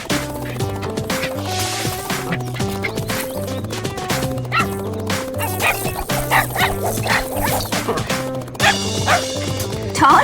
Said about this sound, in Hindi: बदमाश कुत्ता